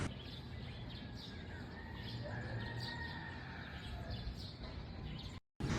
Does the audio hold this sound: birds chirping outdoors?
yes